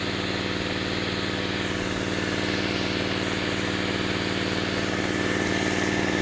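A small fire pump engine running steadily after fuel was squirted into it, a loud, close, rapid mid-pitched putter with an even rhythm that holds throughout, no voices.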